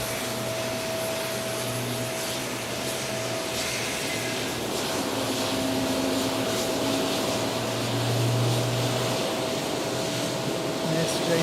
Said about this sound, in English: You can hear this Airbus starting up.